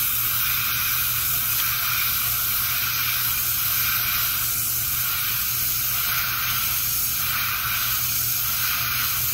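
Car paint being sprayed onto stripe lines on a Chevelle, a loud close hissing spray that swells and eases in short passes, with no talking.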